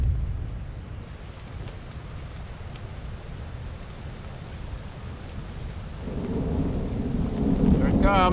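A broad rushing roar of an approaching rainstorm in the Australian bush rises steadily and grows louder toward the end, with a low rumble like distant thunder underneath.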